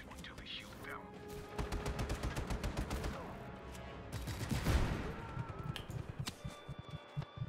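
Gunfire in the Just Cause 3 video game: rapid bursts of shots and dense crackling fire with thumps and a heavier impact midway, set against a busy background of game effects.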